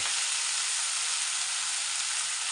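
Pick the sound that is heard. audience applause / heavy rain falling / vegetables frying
vegetables frying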